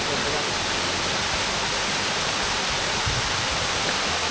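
A steady, dense roar of rushing water fills everything evenly, loud and unbroken, heard up close at Balite Falls in Amadeo, Cavite.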